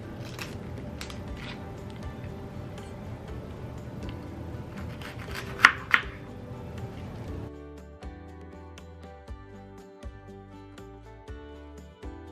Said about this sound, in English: So I'm just going to chop these up, get them in my pan here